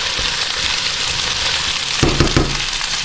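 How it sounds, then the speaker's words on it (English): Halibut pieces sizzle loudly and steadily in a hot pan while a utensil scrapes and stirs through them, with a couple of heavier stirring pushes near the end. "go ahead and give it a good stir"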